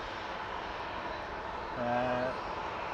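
A Singapore Airlines jet taxiing at Manchester Airport, a steady jet-engine roar heard from a distance with a faint tonal whine rising briefly over the constant rumble.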